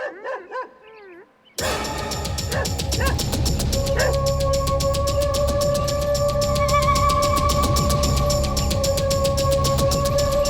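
A dog barks and yelps during a fight scene in a Hindi Bollywood action film, loud and repeated over a dense, continuous wash of score and scuffle noise after a brief quiet opening.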